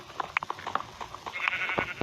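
Sheep bleating inside a survival video game, several short bleats scattered across a noisy background at moderate distance, some overlapping.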